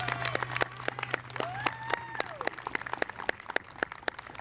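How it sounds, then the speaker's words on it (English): At an outdoor school fine and performing arts awards ceremony in Wantagh, an audience claps for an honoree, with sharp, scattered hand claps at moderate distance and faint voices and a whistle-like tone drifting through. "So can we give a big round of applause to Mrs."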